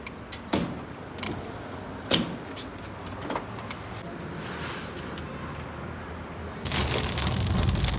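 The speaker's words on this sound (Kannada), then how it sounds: "ಸಡನ್ನಾಗಿ ಇನ್ನೂ ಜೋರಾಗಿ ಮಳೆ ಬರ್ತಿದೆ. ಜೋರು ಮಳೆ." Steady rain pattering down on a car during a road trip near Hyderabad, with a few sharp knocks and thuds early on and a heavier downpour swelling near the end.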